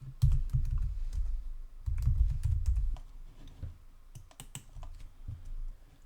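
Keys clatter on a computer keyboard during data entry in an Excel spreadsheet, in quick bursts of clicks separated by short pauses, close and clear with no voices.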